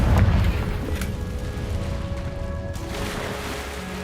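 Confringo blasting spell from Hogwarts Legacy going off as a heavy, booming low burst at the start, then rolling into a sustained rumbling tail with faint tonal game ambience beneath.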